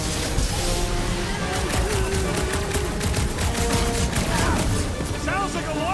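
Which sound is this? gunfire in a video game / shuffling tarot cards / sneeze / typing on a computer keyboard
gunfire in a video game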